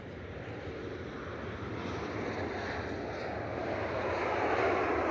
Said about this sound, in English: there's EIGSJ coming in from Porto there with flight 1174. That's the 737-800.